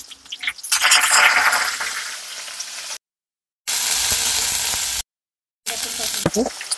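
Green chillies and curry leaves sizzle loudly in hot oil for a kande pohe tempering, a broad crackling hiss that cuts out twice and resumes, with a few sharp pops near the end.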